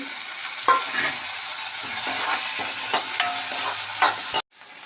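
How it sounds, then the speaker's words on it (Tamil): Chopped ginger and tomato fry in hot oil for besan bhurji, sizzling steadily while a spatula scrapes and stirs the pan in a close, continuous stream before the sound cuts off abruptly near the end. "ஒரு துண்டு இஞ்சி பொடியாக கட் பண்ணியிருக்கேன். அது நல்லா ஃப்ரை பண்ணணும்."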